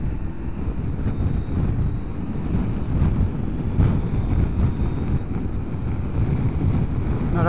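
Gusty wind buffets a microphone while a motorcycle is ridden on a gravel-strewn road, a loud continuous rumbling roar that swells and eases with the gusts.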